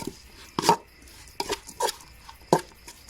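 A knife slices through mushrooms on a cutting board as laab pork is prepared, giving a few sharp, separate chops spaced unevenly, close and clear over a quiet kitchen background.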